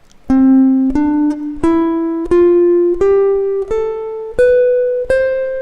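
A keyboard plays a rising eight-note major scale, do up to the high do an octave above. Each clear, sustained tone is struck separately in an even, steady rhythm, with no other sound.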